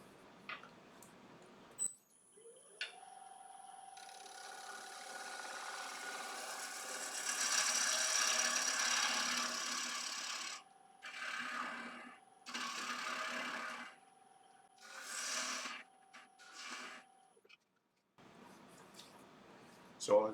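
A wood lathe turns a live edge bowl as a 60° bottom-feeder gouge cuts, giving a steady mechanical hum with a constant whine and scraping bursts that swell, pause and resume in several passes.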